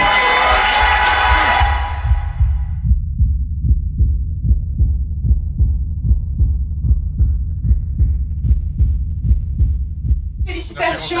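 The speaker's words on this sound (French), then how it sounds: "On peut applaudir le jury s'il vous plaît?" An audience applauds and cheers the jury at a rap talent contest, a loud burst of clapping that fades after a couple of seconds into a steady, deep, rhythmic thumping beat.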